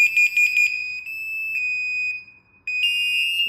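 A smoke alarm tested alongside an ANKA S8 WiFi gateway, a steady piercing electronic tone, loud and close, briefly pulsing at first and dropping out once before resuming.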